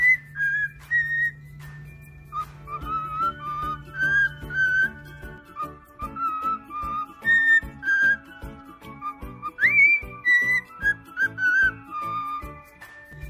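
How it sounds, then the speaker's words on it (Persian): A pet parrot whistles the Happy Birthday tune in clear, bright, melodic phrases with short pauses between them, close to the microphone and heard alone. "ببینین که ای هپی بردی رو براتون میخوانه، چقدر مقبول میخوانه"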